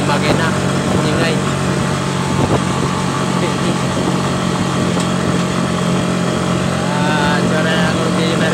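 An engine drones loud and steady through the whole stretch during a ride near a river in Abra, with voices talking under the constant noise.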